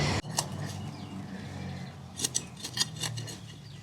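Garden snips cutting a tomato plant in a kitchen garden at planting time, a few sharp metallic snips close by, scattered over a few seconds with soft rustling and no talk.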